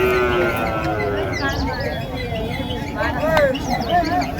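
Cattle at a large cow market in Matrapalli, Tirupattur district, with a pregnant crossbred cow among them; a steady crowd murmur and market bustle fill the scene, with occasional animal calls and bird chirps rising above it and people talking throughout.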